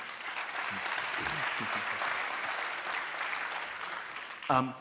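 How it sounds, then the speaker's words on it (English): Steady applause from an audience fills the room, holding at an even level throughout, with a brief louder burst near the end. "Please give them all a round of applause."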